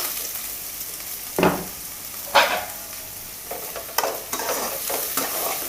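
Onion and green chilli pieces fry in hot oil with a continuous crackling hiss, punctuated by a few loud scraping stirs against the pan.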